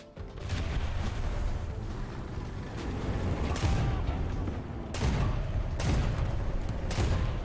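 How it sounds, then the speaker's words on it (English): Heavy booming tank cannon fire from a video game, several loud blasts at irregular intervals over a constant rumbling battle din. "Hopefully the gunshots aren't too loud."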